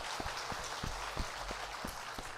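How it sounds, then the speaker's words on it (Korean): Sparse applause from a church congregation during a Sunday worship service, a handful of soft, scattered hand claps spread through a quiet room, faint and a little distant. "박수로 격려합니다"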